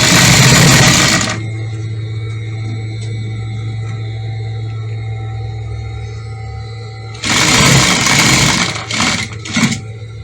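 An industrial sewing machine stitching in two loud, fast buzzing bursts at the start and end, with a steady motor hum idling between them.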